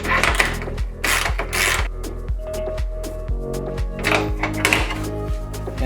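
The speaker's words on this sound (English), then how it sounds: "we can tighten these 17 mil nuts." Ratchet tightening 17 mm nuts on an Aerocatch hood latch on a MK4 GTI, a loud, close run of rapid clicking pawl strokes in bursts, with short pauses between pulls.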